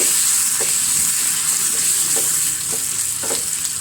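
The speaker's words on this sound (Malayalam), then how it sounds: "ഉള്ളി ഇട്ടു. ഉള്ളി മുരിയിട്ടേട്ടോ. കറിവേപ്പിലയും ഉണക്കമുളകും കൂടി ഇട്ട് കൊടുത്തിട്ടുണ്ട്." Onion, curry leaves and dried chillies frying in a pan: a loud, steady, close sizzle, with soft scrapes from stirring now and then and no voices.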